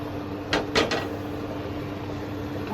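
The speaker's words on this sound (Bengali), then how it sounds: "আমি এখন ঢাকনাটাকে আবার খুলে দিচ্ছি।" A cooking pot lid is lifted off while beef handi kebab cooks, giving two quick metallic clinks close by over a low steady background hum.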